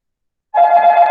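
A mobile phone rings during a lecture with a steady electronic tone that starts abruptly and carries on, loud and close, with no talk over it.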